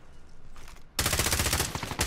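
Loud, dense automatic gunfire in the Call of Duty Warzone video game erupts after a quieter stretch and continues as a sustained burst.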